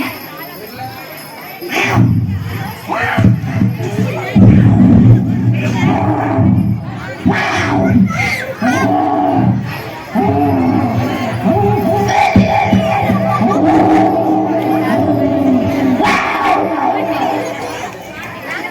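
A student at a Pongal festival school event imitates a baby gorilla's cry, producing loud, repeated hoarse vocal bursts and whoops over a reacting crowd of children, with chatter and cheering around.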